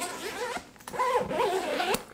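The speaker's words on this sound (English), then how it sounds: "This actually is a water-sealed zip, but it moves really smooth." A water-sealed zipper on a jacket of Cordura fabric with a DWR treatment is pulled, giving a smooth, close rasping zip that runs in two strokes with a short pause between.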